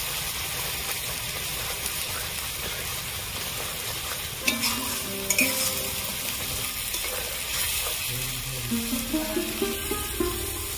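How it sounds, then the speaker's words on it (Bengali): Ginger, garlic, green chilli, tomato, cumin and coriander fry together in oil while being stirred, a steady close sizzle under the scrape and clink of a spoon against the pan, with music playing alongside. "আদা, রসুন, কাঁচা লঙ্কা, টমেটো, জিরে, ধনে আমি একসাথে দিয়ে ভালো করে কষিয়ে নিয়েছি"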